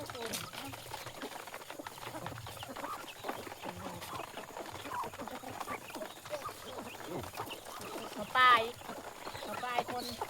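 Chickens cluck and a rooster calls at morning feeding time for ducks and chickens on a rural farm, with faint, scattered bird sounds throughout and one louder call near the end while people talk.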